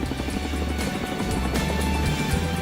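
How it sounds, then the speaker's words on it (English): A Chinook helicopter drones nearby in Afghanistan with a steady, low rhythmic rotor thump and engine whine, continuous and fairly loud without any talking. "The Chinook's an American helicopter that's been around for 50 years."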